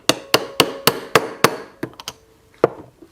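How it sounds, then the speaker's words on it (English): Sharp metallic taps, six evenly spaced strikes then a few irregular ones, a 13 mm socket knocking against a snap ring on a Honda front brake master cylinder with a brief ringing tone. "But I'll just grab a little socket, this is 13 millimeter, and just give this a little tap"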